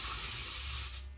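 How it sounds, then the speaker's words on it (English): Baking spray hisses from a can into a baking pan in a home kitchen, one close, loud, steady burst of about a second that tails off abruptly. "Baking spray it up."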